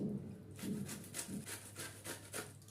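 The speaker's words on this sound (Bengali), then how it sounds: "আমি একটু গ্রেটারের মধ্যে গ্রেট করে নিচ্ছি" Roasted mango pulp is rubbed on a kitchen grater for mango sherbet, making soft rhythmic rasping strokes, about one stroke every half second, close and quiet.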